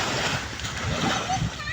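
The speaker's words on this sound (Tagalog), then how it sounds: "dalampasigan ng Boracay" Water splashes and surf wash along Boracay beach, steady and close, with a voice talking over it.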